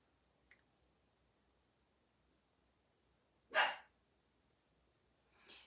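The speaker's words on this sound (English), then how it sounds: "Everybody knows why he is barking." A dog barks for treats in a quiet room, giving a faint short bark early on, then a loud close bark a few seconds later and a softer huffing bark at the end.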